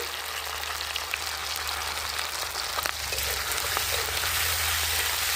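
Green chilli and ginger tempered in hot oil for a mourala fish shukto give off a steady, close, hissing sizzle that grows slightly louder partway through, with no voices.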